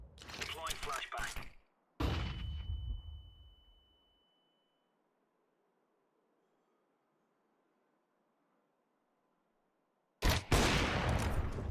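Scout sniper rifle shots in a competitive first-person shooter game crack in short loud clusters near the beginning, then fall silent for several seconds before another burst of sharp reports at the end.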